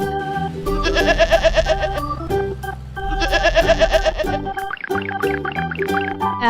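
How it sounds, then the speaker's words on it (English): Two bleating calls ring out over upbeat music, each a wavering, quavering cry from a sheep, loud and close. "Sheep."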